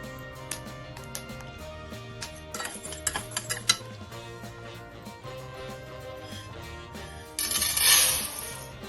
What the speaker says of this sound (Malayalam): വറുത്ത് വരുമ്പോൾ മുതിര പൊട്ടി വരും ആ സൗണ്ട് വരുമ്പോൾ ഒരു പാത്രത്തിലേക്ക് മുതിര മാറ്റി വയ്ക്കണം